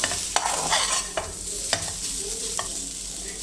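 Curry leaves are stirred in a hot pan for tomato rasam, with a steady sizzle of frying and a few sharp scrapes of a spoon against the metal.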